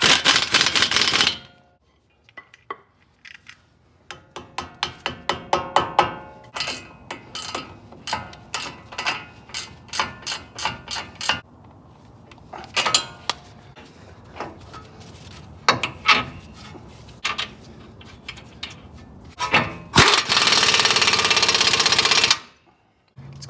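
A 13mm socket wrench tightening the axle nut on a Ford, giving a long run of rapid ratchet clicks in bursts, close and fairly loud, with short pauses between strokes.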